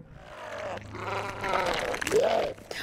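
A sheep bleats a couple of times, close and wavering, with a voice briefly heard alongside.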